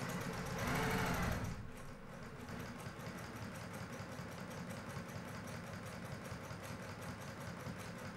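A sewing machine runs steadily at a small 2.0 stitch length, stitching fabric along seam tape; a louder burst at the start settles into an even, continuous rapid stitching drone close by.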